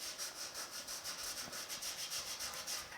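Hand sanding a 1950 Chevy truck hood with folded 120-grit sandpaper makes a steady, close rasping scrape in quick back-and-forth strokes, repeating evenly throughout with no voices.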